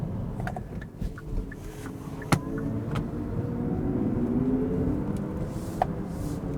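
A Hyundai IONIQ 6 electric car drives in sports mode, giving off a low, steady road rumble and faint motor hum, with a few light clicks and taps from the cabin.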